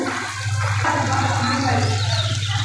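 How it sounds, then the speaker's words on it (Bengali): Water is poured into a pan of simmering potato curry to make gravy, a steady close gushing splash over a low hum, with some faint talk in the background. "আমি একটু ঝোলের পানি দিয়ে দেবো"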